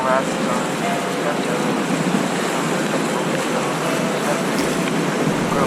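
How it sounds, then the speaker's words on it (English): Loud, steady rush of surf and splashing water as a boat hits waves on the Lochsa River, water sweeping over the boat, with wind buffeting the microphone throughout. "Hits great, sending water up over the entire boat after every hit."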